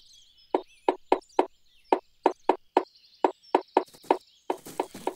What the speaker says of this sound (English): It's a bird, and it's making holes in the tree.